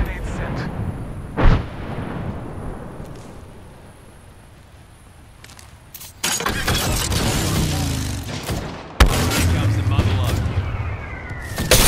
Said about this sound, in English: Thermite grenade sent.